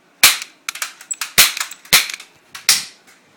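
A toy cap gun fires several sharp, loud cracks, five main pops spread irregularly over a few seconds, with smaller clicks and snaps of handling between them.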